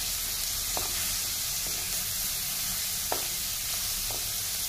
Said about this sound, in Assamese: সেইটো কাৰণে অকণমান তেল দি ভাজি লৈছোঁ